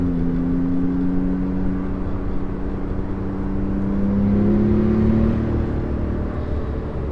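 A tuned 660 horsepower Porsche 911 Turbo S engine drones steadily from inside the cabin, its pitch rising and falling slightly as it pulls through the gears, with no talking.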